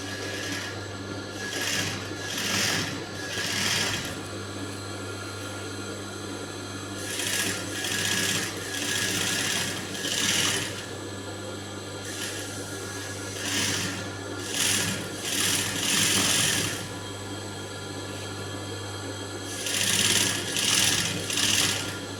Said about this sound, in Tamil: நம்ம தையல் போடலாம்.